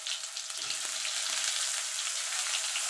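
Onions tossed into hot oil with bay leaf and whole cumin, the base for a rohu fish and cauliflower curry, giving a steady bright sizzle and hiss close up, continuous and unbroken, with no talking.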